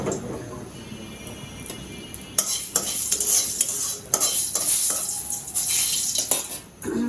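Lentils fry in hot oil with radhuni spice, giving a soft sizzle under scraping and clattering as a utensil stirs the pan in irregular bursts.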